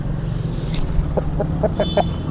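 Country chickens on an organic native-chicken farm give a quick run of about six short clucks, moderately close, over a steady low background rumble.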